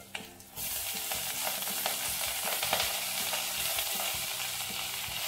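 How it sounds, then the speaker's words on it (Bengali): Chopped onion fries in a pan for pui saag chorchori and is stirred: a steady close sizzle starts after a brief pause, with repeated scraping stirs of a spatula against the pan, no talking. "পেঁয়াজ কুচিটাকে বেশি ভাজবো না, অল্প একটু নেড়ে আমি পাতাগুলো তুলে দেব।"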